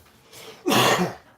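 A single sharp sneeze bursts out at a card-game table, preceded by a faint breathy intake, loud and close, with no talking over it.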